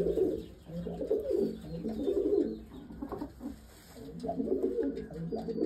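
Madras pigeons coo in low, throaty bursts, several birds overlapping in a steady rolling murmur, fairly close, with faint chirps above and no talking.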